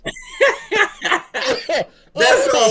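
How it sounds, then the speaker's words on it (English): Someone coughs in a few short bursts, close and loud, mixed with laughter-like breathy sounds and brief pauses between them. "You got me coughing out here, bro."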